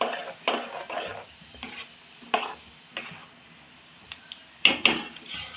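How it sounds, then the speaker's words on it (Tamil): Coconut pieces being stirred into a thick melted jaggery halwa mixture, a series of irregular scraping and knocking spoon strokes against the pot, fairly close, with no speech. "தேங்காய் போட்டு கிண்டிக்கலாம்"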